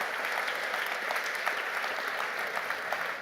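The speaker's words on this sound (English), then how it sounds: "please thank him, give him a big round of applause for being so open" Audience applause fills a conference hall at the close of a POLITICO interview with Olivier Guersent, a steady, dense wash of many hands clapping at moderate level without a break, with no voices over it.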